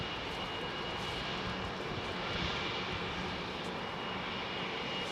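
A Singapore Airlines Airbus A380 airliner at London Heathrow gives off a loud, steady broadband roar of jet engines that holds evenly throughout and swells slightly in the middle, with no voices.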